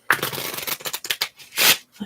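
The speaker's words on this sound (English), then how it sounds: "let me just get these cards shuffled." Tarot cards are shuffled up close in a quiet room, a quick series of papery riffles and flicks, then a louder sliding whoosh of cards near the end.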